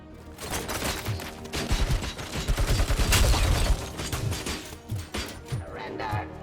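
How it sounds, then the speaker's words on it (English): Heavy machine gun fire in the video game Robocop: Rogue City, a dense rattling fusillade of shots with heavy thuds that builds to a loud peak around the middle, then breaks into scattered bursts and impacts. "Heavy machine gun."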